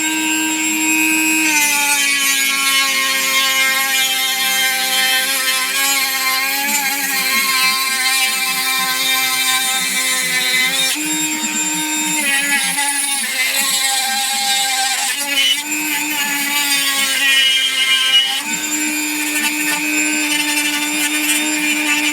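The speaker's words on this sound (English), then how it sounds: "we're going to go ahead and cut across here with the Dremel." Dremel rotary tool cutting across a part on a Tamiya Bruiser / Tonka camper build, a steady high-pitched whine that rises and falls with load, loud and close and continuous for the whole stretch.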